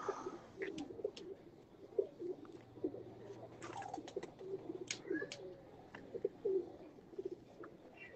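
Pigeons coo steadily from a rooftop loft, soft low throaty calls repeating throughout with occasional chirps and wing rustles, no talk over them.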